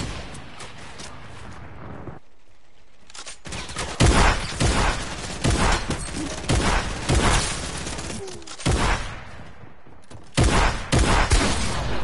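Rapid gunfire from an AK rifle and heavy pump shotgun blasts in a shooting video game, loud bursts and single booms crowding one another across the clip with brief lulls between volleys.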